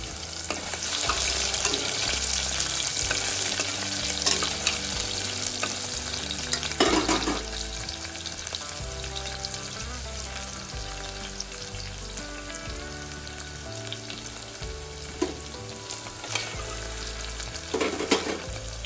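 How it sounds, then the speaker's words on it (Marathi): Sliced onion fries in oil for veg pulao, a continuous loud sizzle with periodic scraping and knocking as a spoon stirs the pan, close up with no talking. "आता कांदा चांगला लालसर होईपर्यंत परतून द्यायचा आहे."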